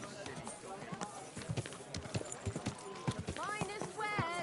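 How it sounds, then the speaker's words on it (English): In the medieval game Kingdom Come Deliverance 2, horse hooves clip-clop at a steady walking rhythm on a busy street, close by, while voices talk over them and a horse briefly whinnies near the end. "Watch out with that horse!"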